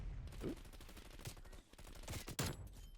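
Gunfire in a first-person shooter during a sniping match, with several sharp shots and bursts popping over steady background game noise.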